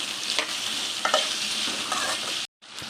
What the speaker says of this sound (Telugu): సాల్ట్ వేసుకొని ఫ్రై చేసుకోవాలి, త్వరగా వేగిపోతుంది.